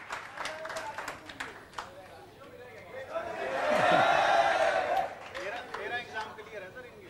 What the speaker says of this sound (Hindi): आप ताली बजाओ बहुत बढ़िया